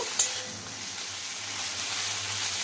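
Par-boiled taro pieces fry in a pan with a constant soft, hissing sizzle, opening with one brief click, then settling into an even crackle without any voices.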